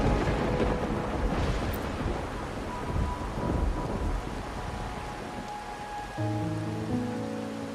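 Rain and thunder in the video game Wuthering Waves, a steady wash of rain with low rumbling thunder swelling early, then a musical tone entering near the end.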